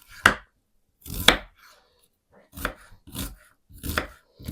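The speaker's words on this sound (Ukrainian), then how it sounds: "а тим часом наріжу цибулю. Просто дрібненьким кубиком." Sharp knife strikes on a cutting board while dicing an onion into small cubes, spaced chops and short bursts of rapid chopping, close and clear with no talking.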